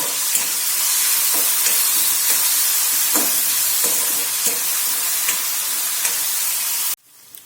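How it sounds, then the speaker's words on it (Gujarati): Chopped onions sauté in hot oil over a medium gas flame, a steady close sizzle and hiss with small stirring clicks, which cuts off abruptly near the end. "ડુંગળીને આપણે 2 મિનિટ માટે આ રીતે તેલમાં સાતળશું"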